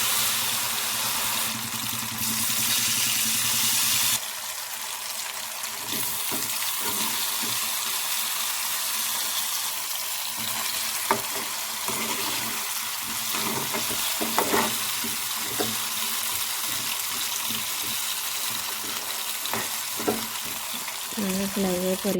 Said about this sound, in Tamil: மீதமுள்ள கிழங்கையும் நாங்கள் போட்டு பொரித்தெடுப்போம்.